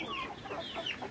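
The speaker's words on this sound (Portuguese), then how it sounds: "Olha só quanta galinha." A crowd of hens in a farmyard clucks steadily, with overlapping short, rising calls from several birds nearby and no talk.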